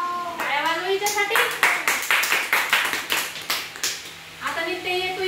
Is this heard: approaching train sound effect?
no